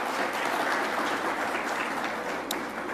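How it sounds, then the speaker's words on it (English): A crowd at a business awards ceremony applauds steadily, a dense wash of clapping hands that holds even throughout. "Give him a round of applause, please."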